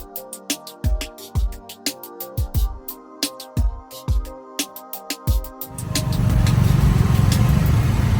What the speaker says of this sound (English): it is crazy packed with traffic right now